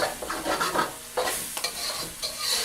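Garlic, ginger and onions sizzle and fry in a sauce in a pan for a keto shrimp and eggplant dish, with steady close crackling and bursts of stirring scrapes throughout.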